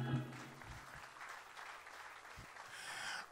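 Church congregation clapping in a large hall with a balcony, a dense but fairly quiet wash of applause heard from a distance, steady throughout.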